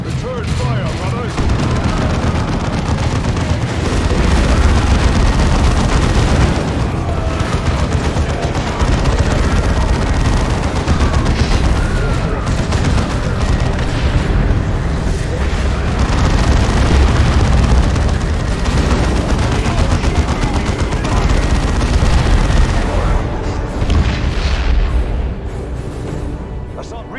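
Sustained gunfire and explosions on a battlefield in Warhammer 40,000: Dawn of War II – Chaos Rising, a loud, continuous barrage of booms and shots with voices mixed in.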